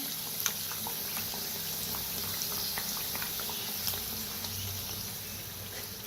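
Kachori deep-frying in oil over a low gas flame, a faint, steady bubbling hiss with small scattered pops and ticks, heard close and alone without any voices.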